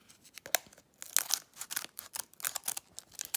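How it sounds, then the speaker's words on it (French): Pokémon booster pack foil being cut open with scissors, a fast uneven series of crisp tearing snips and crinkles, close and fairly loud with no talking. "J'ai pris les ciseaux, j'ai bien fait."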